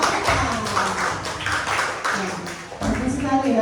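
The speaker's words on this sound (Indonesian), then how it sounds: "beri tepuk tangan untuk kelompok" A classroom of students claps for a group of classmates, a dense patter of hands mixed with chatter and a voice talking over it, lasting only a few seconds.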